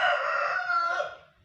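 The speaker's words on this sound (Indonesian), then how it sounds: "ada suara ayam karena ya nenek aku suka merawat ayam ya" A rooster at a home where chickens are kept crows once nearby, a loud, drawn-out call that fades toward the end.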